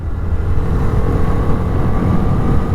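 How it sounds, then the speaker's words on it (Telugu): A Bajaj Freedom 125 CNG motorcycle engine drones smoothly while riding, a loud, steady low rumble mixed with rushing wind, with no voices. "స్మూత్గా ఉంది ఇంజిన్ కూడా."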